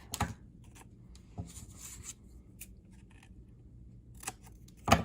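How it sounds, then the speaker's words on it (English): Scissors making a few small, careful snips at the claws of a paper groundhog craft, quiet and close, with gaps of near silence between cuts. "we're going to use just the tip and very carefully snip, snip, snip, snip"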